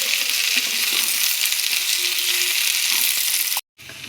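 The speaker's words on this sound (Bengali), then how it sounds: "এবার ভালো করে নাড়াচাড়া করে ভেজে নেব।" Flat beans and potatoes stir-fry in hot oil in a pan, a loud, steady sizzle with occasional scraping stirs and light clinks, briefly cutting out near the end before resuming.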